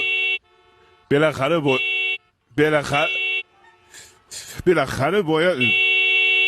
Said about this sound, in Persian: واسه چی داری بوق میزنی آقا؟